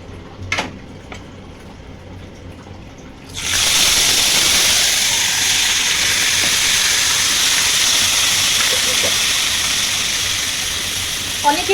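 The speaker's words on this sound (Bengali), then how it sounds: "এবার আমি এর মধ্যে চিকেনটাকে দিয়ে দেবো" Chicken pieces hitting hot oil in a pan with fried onions for a home-cooked chicken dish, setting off a loud, steady sizzle that starts abruptly after a few quiet seconds and holds strong to the end.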